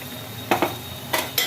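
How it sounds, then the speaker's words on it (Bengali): Spoon stirring potato and ridge gourd curry with poppy seed paste in a pan, four quick metallic scrapes and clinks in two close pairs, near and alone. "এবার এটা ভালো করে এটার সাথে নাড়াচাড়া করছি"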